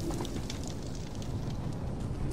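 Fire burning in the Call of Duty: Modern Warfare campaign, a steady close crackling roar with no voices over it.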